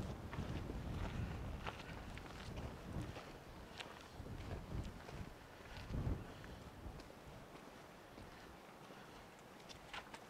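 Wind blows outdoors at Jemez Pueblo, a steady rough rumble with gusts that buffet the microphone, along with a few faint scuffs. No one speaks.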